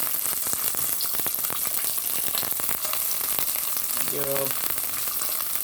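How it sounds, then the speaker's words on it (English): Garlic and bok choy sizzle and crackle briskly in hot olive oil, a dense, constant frying hiss close to the pan, with a brief spoken word over it. "you can hear this olive oil starting to really sizzle"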